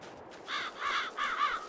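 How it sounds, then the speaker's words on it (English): Crows in a farming video game give three harsh, nasal caws in quick succession, fairly close and clear over a quiet background. "Get out of here, birds."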